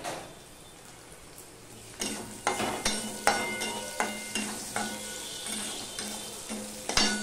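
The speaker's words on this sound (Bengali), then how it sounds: "রসুন আর কাঁচা লঙ্কাটা লাল লাল করে ভেজে নেব" Garlic and green chilli fry with salt and turmeric in a pan, a steady sizzle under repeated scraping stirs that knock out every half second or so after a quieter start.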